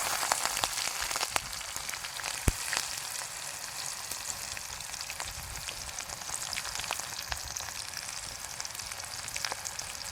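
Onions crackle and sizzle in hot oil with mustard seeds, a dense continuous frying hiss punctuated by sharp pops and occasional stirring clicks.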